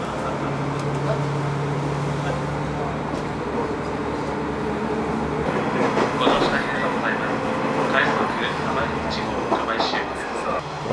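A fast train runs along a Japanese local line between Kitakami and Hon-Hachinohe with a steady rumble and a continuous hum, light clicks and rattles rising as it moves.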